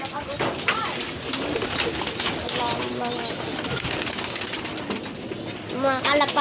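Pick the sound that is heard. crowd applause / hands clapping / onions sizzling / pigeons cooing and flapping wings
pigeons cooing and flapping wings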